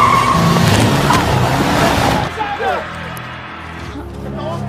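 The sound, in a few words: car skidding and crashing into people in film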